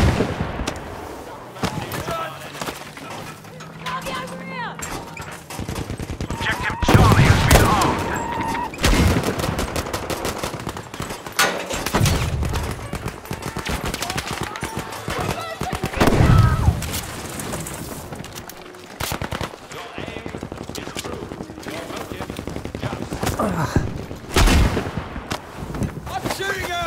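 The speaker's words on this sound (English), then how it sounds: "I'm shooting him!" Rapid machine-gun bursts and heavy gunfire boom through a Battlefield V firefight, with dense, continuous shooting and several loud, deep impacts and explosions across the half-minute, close and intense.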